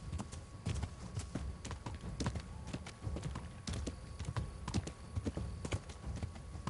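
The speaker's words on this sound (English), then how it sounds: "Go ahead and try and catch my horse." Horse hooves clip-clop in the medieval video game Kingdom Come: Deliverance, a steady, quick, fairly quiet rhythm of hoof strikes throughout with no talking.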